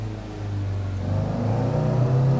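A Honda Civic EG engine held at full throttle, a steady close-up rev that climbs gradually in pitch and loudness over a couple of seconds, with no voices.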